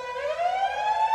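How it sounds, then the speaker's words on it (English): A rising, wailing siren sound effect made for a remake of a song, heard alone as one loud, steady upward sweep with bright harmonics. "later on in the song, we're going to be adding in a siren."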